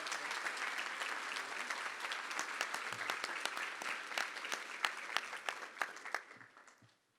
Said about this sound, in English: And let's give her a big round of applause.